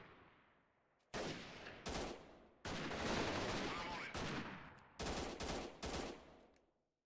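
Automatic rifle bursts in the guerrilla combat game Freeman: Guerrilla Warfare, several loud, sharp volleys spaced across a few seconds with brief gaps between them, tapering into a fading echo at the end.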